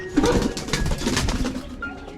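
Pigeons coo in low, soft, burbling calls in a loft, close by, for a couple of seconds.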